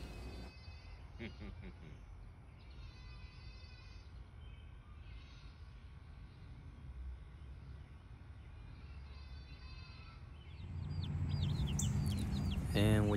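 Young male roosters, chicks raised on a small backyard flock, give short clucks and chirps over a steady noisy background, with a louder burst of bird calls near the end.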